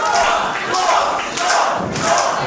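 A crowd at a British pro wrestling show cheers and roars in loud surging waves, swelling and dipping about every half second to second.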